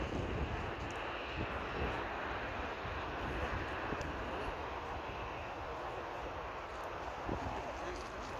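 QantasLink Boeing 717 jet roars on takeoff from Sydney, a steady broad engine rush heard from a distance, fairly even in loudness throughout, with faint chatter from people nearby.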